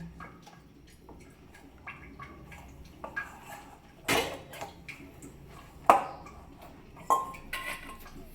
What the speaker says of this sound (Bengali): এই যে স্নেহা থালা বাসন মাজতেছে